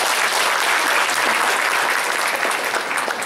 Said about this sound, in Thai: ขอเสียงสนับสนุนปรบมือให้ผม